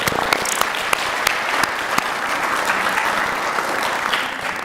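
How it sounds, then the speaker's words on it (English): A room full of people clapping steadily at a charity auction event, a dense patter of applause at moderate volume, with a few sharper individual claps standing out. "a big round of applause"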